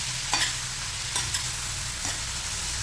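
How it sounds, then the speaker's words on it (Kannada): Chopped tomatoes fry over sautéed onions in a pan for a tomato curry, giving a steady close sizzle broken by a few scraping stirs of a spoon, with no voices. "ಸ್ವಲ್ಪ ಈರುಳ್ಳಿ ಬಾಡಿದ ಮೇಲೆ ಕಟ್ಟಿರುವಂತಹ ಟೊಮೆಟೊನ ಹಾಕ್ತಾಯಿದ್ದೀನಿ"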